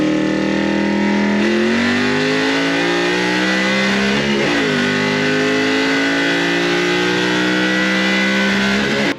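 Ford "green machine" car on a lift running hard through acceleration pulls, its engine note rising steadily in pitch with gear-change dips, loud, close and continuous.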